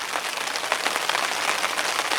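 Heavy morning rain lashes down at a carp fishery, a loud, constant roar of drops drumming on a surface, with no talk.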